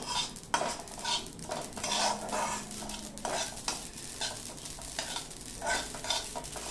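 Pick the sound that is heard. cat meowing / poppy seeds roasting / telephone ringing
poppy seeds roasting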